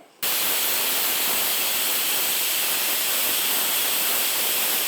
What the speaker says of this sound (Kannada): ಸ್ಟೀಮ್ ಹೋಗೋ ತನಕ ಇಟ್ಕೊಳ್ಳೋಣ ಈಗ ಮೂರು ವಿಷಲ್ ಆಗಿದೆ ಕುಕ್ಕರು